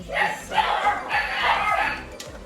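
A dog barks in a quick run of yips and woofs somewhere in a home kitchen, several short bursts close together over steady background noise.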